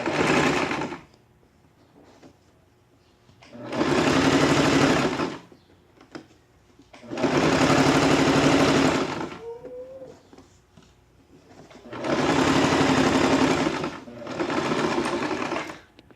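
A sewing machine stitches a folded seam on a draped jacket in four steady whirring runs of a few seconds each, separated by quiet pauses, close and clear with no talking.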